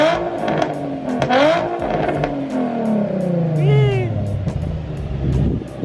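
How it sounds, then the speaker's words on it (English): A Nissan NISMO fitted with a titanium Tomei dual exit exhaust revs up and falls back in rising and falling sweeps, with a raspy, close tone and some brief voices nearby. "That's what a dual Tomei exhaust sounds like."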